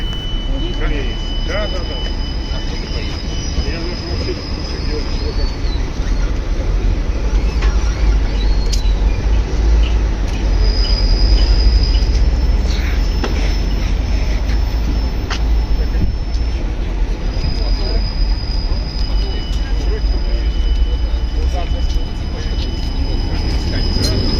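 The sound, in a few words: self-driving tram running in Moscow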